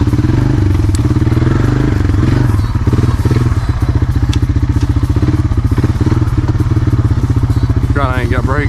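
A Honda Foreman ATV engine revs hard through deep mud, a loud, rapid, chugging pulse with thumps and clatter, and a voice speaks briefly near the end.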